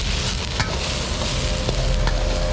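Kaffir lime leaves, chili and fingerroot are stir-fried in a wok with curry paste for a holy basil dish, giving a steady loud sizzle broken by scraping stirs and a few sharp clacks, no voices.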